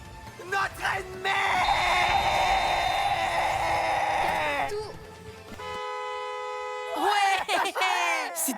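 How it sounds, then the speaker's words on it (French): A truck horn sounds in long sustained tonal blasts, loud and near, with a second horn tone near the end and voices talking around it. "C'est pas un klaxon de camion, ça?"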